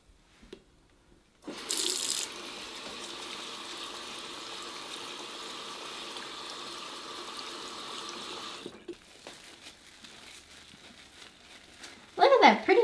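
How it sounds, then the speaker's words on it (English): A bar of LUSH Raspberry Milkshake soap worked into a loofah at a sink. A tap runs steadily for several seconds, then quieter dribbling and wet handling follow, with a brief voice near the end. "So we're going to take our bar of soap and get it in our loofah, lathered up, and see what kind of lather we get."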